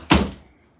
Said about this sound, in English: I'm just gonna close my door.